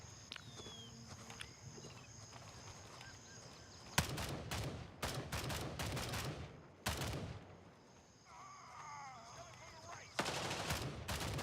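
Bursts of AI rifle fire in the tactical shooter Gray Zone Warfare, several loud rapid volleys cracking out between quieter stretches of ambient noise and faint movement, with a voice talking at moments.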